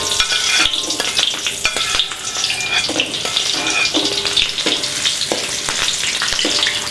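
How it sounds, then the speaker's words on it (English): Shallots frying in a third of a cup of hot vegetable oil over medium heat for an Indonesian chicken stew, a loud dense sizzle with spatula scraping and stirring, close and continuous. "first I'm going to add the shallot while the oil is ready"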